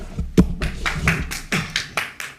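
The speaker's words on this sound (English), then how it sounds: "No clapping, please." A few people clap in the audience at a council meeting: a scattered run of sharp, separate claps, close and moderately loud, unevenly spaced over a couple of seconds.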